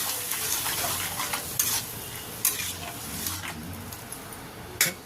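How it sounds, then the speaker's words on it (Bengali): A spoon stirs water into ivy gourd (kundru) curry in a pan, giving soft scraping and sloshing over a faint sizzle, with a few sharper clinks of utensil against the pan. "এবার জলটা ভালো করে মিশিয়ে নিচ্ছি।"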